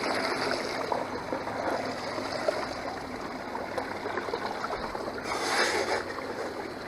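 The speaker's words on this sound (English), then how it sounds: "The water's coming off pretty level." Water rushing steadily off a gold sluice outdoors, a continuous broad splashing flow with a brief swell near the end, no talk.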